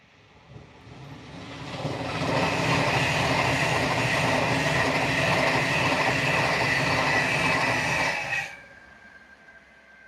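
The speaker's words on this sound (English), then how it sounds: "And here comes a Pendolino." A Pendolino train rushes past in Lancashire, UK. A quiet start swells into a loud, sustained roar with rhythmic wheel clatter and a high whine, then cuts off sharply near the end and leaves faint background.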